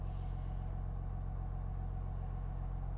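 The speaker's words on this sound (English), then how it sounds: "it is a diesel engine, and it sounds so smooth, so welcoming, that I actually do not want to shut it off" A diesel engine in a 2020 Chevrolet Silverado 1500 RST fitted with a snow plow idles smoothly, a steady low rumble with a constant hum, close and unchanging throughout.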